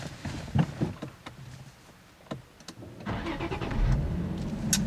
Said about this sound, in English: I actually do like the way the V6 sounds when it starts up